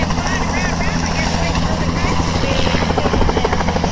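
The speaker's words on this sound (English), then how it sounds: "I guess that was the helicopter causing all the wind." A helicopter lands at an outdoor kite festival in Wichita, its rotor producing a continuous loud, dense thumping whir with strong wind noise, steady throughout and fairly close.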